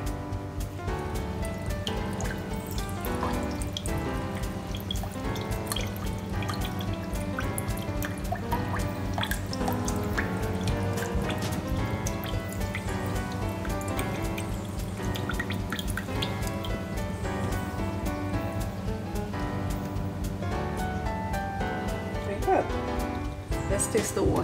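Coconut water pours from the shell into a glass with a steady trickling and dripping that lasts throughout. A voice is heard at times.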